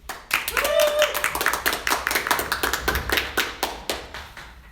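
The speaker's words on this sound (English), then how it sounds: "let's give a round of big applause to Katherine Hudson" Audience hands clap sharply for speaker Katherine Hudson at a diversity-in-business talk, a loud burst of close, uneven claps that thins into scattered individual claps, with a voice briefly audible under it.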